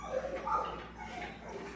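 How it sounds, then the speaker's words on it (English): A woken puppy lets out soft, high yips and whimpers, a few short cries close by and fairly quiet, fading into low whining. "I apologize, I woke up the puppy."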